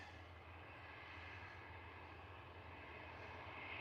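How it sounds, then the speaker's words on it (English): A Ryanair airliner on approach to Liverpool Airport, a faint, distant steady engine rumble and whine that holds evenly throughout with no talk. "Ryanair on its way in."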